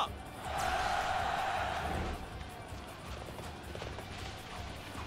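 Horse hooves gallop in Dynasty Warriors 6, a busy clattering run mixed with battle noise and a brief tonal effect near the start, fairly loud and continuous.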